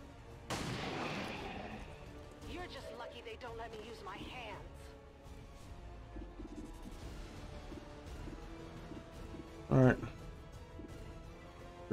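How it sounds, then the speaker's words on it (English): Pistol shots in the tactical video game XCOM 2: War of the Chosen, a few sharp reports spaced across the stretch, one loud crack standing out late, over game ambience and someone talking throughout. "Fire pistol"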